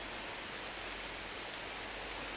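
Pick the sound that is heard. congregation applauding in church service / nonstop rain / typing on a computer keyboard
nonstop rain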